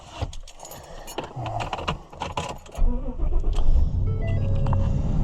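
Keys jangle as they are picked up near a pickup truck at an antique machinery show, a bright metallic rattle that gives way to a low vehicle rumble, with no talk over it.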